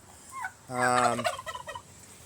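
A blue slate turkey tom gobbles once, a loud rattling, warbling call up close, followed by a few quieter trailing notes, with no talking.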